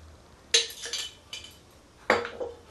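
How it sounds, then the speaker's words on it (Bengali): A little oil is poured onto a plate while making Bengali-style chita pitha, heard as two clusters of bright, close clinks and scrapes of a spoon against the plate with quiet gaps between. "আমি এই প্লেটটায় একটু তেল নেব, অল্প সামান্য একটু তেল নেব"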